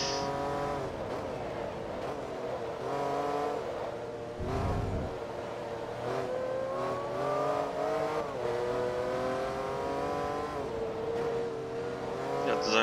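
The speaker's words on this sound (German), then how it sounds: "Einen starken V10-Motor." A Porsche Carrera GT V10 in the racing game Forza Motorsport 2 howls through rising and falling revs, gear changes cutting between climbs, loud and continuous with brief tire noise.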